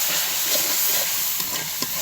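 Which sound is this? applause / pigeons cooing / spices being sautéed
spices being sautéed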